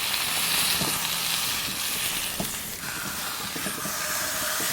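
Roast beef sears in hot cast iron cookware at a campsite, a continuous loud, close hiss and sizzle with faint crackles running throughout, no voices.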